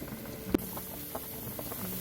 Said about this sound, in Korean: 지금 끓기 시작하는데요. 어, 센 불에서 한 30분 정도만 끓여주고 중간불로 낮출 거예요.